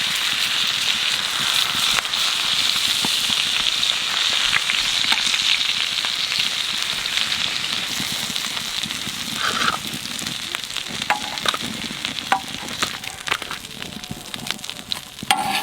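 Giant freshwater prawns sizzle steadily in hot oil. Scattered sharper crackles and spatters grow slightly more uneven toward the end, with no voices.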